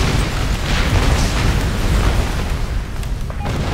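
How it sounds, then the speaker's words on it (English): Dam explosion in the video game Ace Combat Assault Horizon, a dense roaring blast rumble that sustains loudly for several seconds with crackling debris, filling the whole short stretch. "Dam destroyed!"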